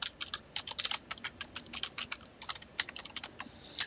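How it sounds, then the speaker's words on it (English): Rapid keystrokes on a computer keyboard as a username is typed, crisp clicks in quick uneven bursts, close and fairly quiet, alone with no talking. "type in our username"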